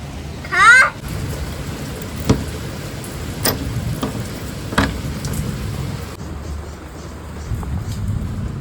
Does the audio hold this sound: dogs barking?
no